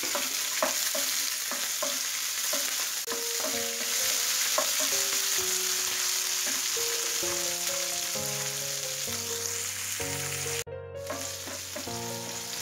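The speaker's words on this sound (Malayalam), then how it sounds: "ഫസ്റ്റ് പയറിട്ടിട്ട് വറക്കാം." Lentils fry and sizzle steadily in a pan with curry leaves and chillies for a brinjal thoran, with a spoon scraping and stirring through them at a close, even loudness, while soft background music plays underneath.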